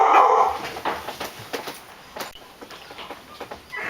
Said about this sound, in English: shut out a bit of the noise with the dog barking whenever somebody comes home